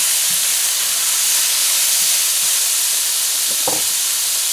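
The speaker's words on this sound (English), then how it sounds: "So we're going to add the stuff that are a little tougher first, for them to fry a bit first." Steady loud hiss of bora, sweet peppers and mixed vegetables frying in a pan for fried rice, continuous throughout, with a few faint clicks and light stir knocks.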